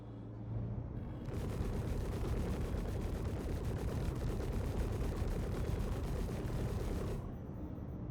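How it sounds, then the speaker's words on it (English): Turret fire in the space game Star Citizen, a dense, continuous rattling barrage that holds steady for several seconds before cutting off, loud and without speech. "I feel like the turrets are shooting at me"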